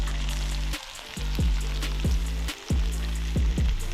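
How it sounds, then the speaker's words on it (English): Food fries and sizzles in a pan over a campfire at a riverside fishing camp, a steady crackle broken by brief pauses and sharp scraping stirs. "Dinner cooking,"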